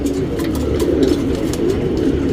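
Soft, low, continuous cooing from racing pigeons close by, a steady murmuring drone with faint flutters and clicks and no voices.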